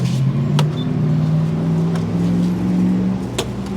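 A camper van rolls along the road with a steady low engine drone and broadband tire and wind rumble, close and continuous, broken by a few faint knocks from the cabin and no speech.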